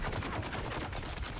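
Heavy gunfire from a big gun in the survival game Dune Awakening, a steady dense burst of rapid shots that stays loud and close for its whole length, with no talk over it.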